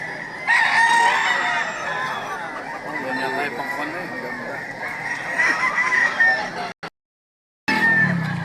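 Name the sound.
fighting cocks at a market in Lipa, Batangas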